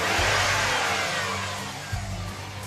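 A turbocharged Saab 9-2X Aero engine with a functional hood scoop and big intercooler revs close by, a raspy boxer-style roar that surges early, eases off, then blips again near the end.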